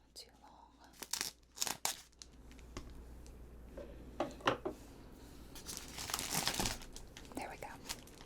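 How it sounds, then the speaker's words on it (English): Large scissors cut and rustle through craft paper for a miniature book nook, bursts of crisp crinkling and snipping that come and go, close and quiet, with soft whispered talk alongside. "I think it's time to use the big scissors."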